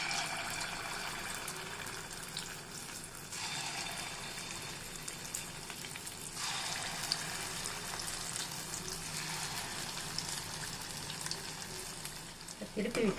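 Balls of idli batter bonda fry in hot oil with a continuous loud, close sizzle, with bursts of stronger crackling that swell and fade as the dough is dropped in.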